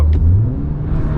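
A VW running a COBB tune on its 7-speed DSG accelerates hard at full throttle, giving a brief, close, rising engine roar with no talking.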